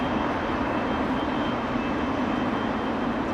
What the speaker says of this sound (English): We have a FedEx 757 taxiing on Alpha in front of us. It's going to get loud.